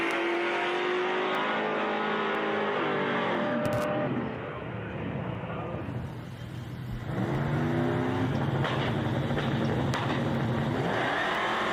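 Drag racing cars launch and rev hard down the strip, loud engine roars climbing in pitch, dipping briefly midway, then surging again with another screaming acceleration close by.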